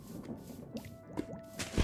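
A bucket being filled with water in a modded Minecraft game, heard as a few soft liquid drips and squishy splashes in quick succession, faint and alone with no talking.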